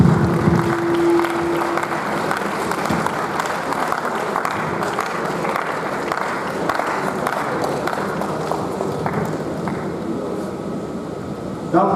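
Conference hall audience at a Nigerian medical laboratory science conference applauds, a steady dense wash of clapping from a large crowd lasting throughout, with a faint background hum.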